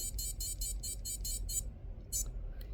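Rapid high-pitched electronic beeps from a Tamagotchi virtual pet toy repeat in a quick run of about eight, then one more after a short gap, over a low rumble.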